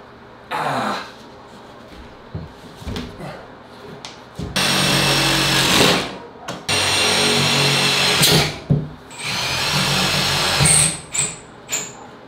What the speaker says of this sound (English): I just have 5 screws left to put in.